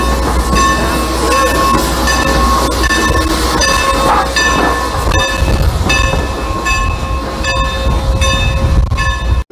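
A train on the Strasburg railroad rolls steadily along the rails, a loud continuous rumble with rhythmic clicking and faint metallic squeal, heard from on board.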